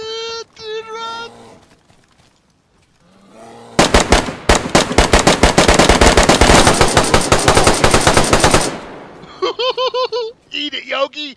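Rapid automatic gunfire rattles loudly in the DayZ Standalone video game, a dense string of close shots lasting several seconds, with excited voices talking and laughing just before and after.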